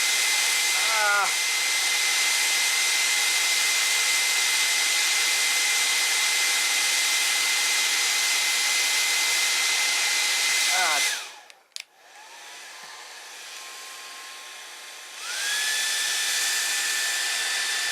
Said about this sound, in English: what I think about the hairdryer